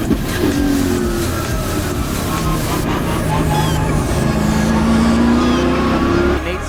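A loud V8 sports sedan race engine roars continuously at high revs down a long straight at Winton, pitch climbing steadily as it accelerates, with crowd or track noise blended underneath.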